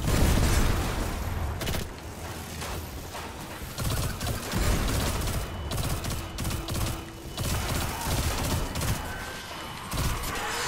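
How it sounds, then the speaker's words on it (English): Repeated booming blasts and crackling bursts of gunfire-like noise from the video game Destiny 2 roll on continuously, loud and chaotic, with no one speaking. "Oh god, it's the explosions."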